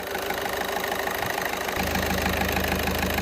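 A VW Golf 1.6 TDI diesel engine runs steadily nearby, a loud continuous idle with a rhythmic knocking pulse that grows heavier and lower partway through, with no talk over it.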